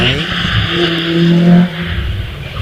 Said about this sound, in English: now it's one of those cars from yesteryear on its way through the S's